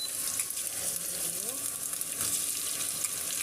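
Chopped onions frying in hot oil, a continuous close hiss and crackle of sizzling with faint scraping, steady throughout with no talking.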